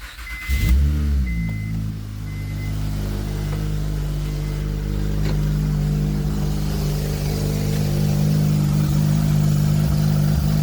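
A 2007 Honda Pilot engine cranks briefly and catches, then settles into a steady, loud idle that runs on evenly close by after radiator replacement, with no talking.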